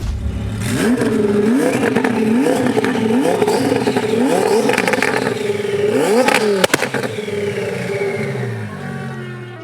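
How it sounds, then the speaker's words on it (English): A twin-turbo Audi R8 engine revs up repeatedly in quick rising sweeps, loud and close, with a final sharp rev and a few crackles before easing off. "we're out in this crazy twin turbo Audi R8 and the revving sounds amazing too"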